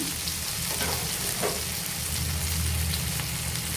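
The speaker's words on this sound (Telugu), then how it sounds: "రెండు వైపులా ఇలా బాగా వేగించుకోవాలండి." Fish pieces frying in a pan after being turned to cook the other side, giving a steady, close, continuous sizzle with soft crackle throughout and no voices.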